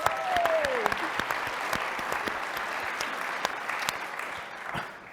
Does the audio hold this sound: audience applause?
yes